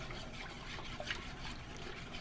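Evaporated milk poured into a cooking pot while someone stirs, a soft continuous liquid trickle and splash at close range with no talk over it.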